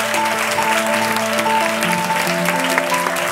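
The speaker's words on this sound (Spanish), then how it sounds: "vamos a recibir a todos estos invitados con un fuerte aplauso." An audience at a film-festival screening event welcomes guests with loud sustained applause, dense clapping throughout, while steady musical tones play underneath.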